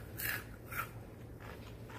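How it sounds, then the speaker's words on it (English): Two crisp crunchy bites of fried okra close up, followed by soft chewing crunches, faint and quiet. "Taste my okra. Let y'all hear how crunchy it is."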